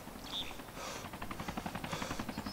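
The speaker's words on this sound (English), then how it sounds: "I hear a chopper." Helicopter in DayZ flying past with a steady rotor chop, a rhythmic thudding pulse building through the clip over a low engine drone, moderately loud and fairly close.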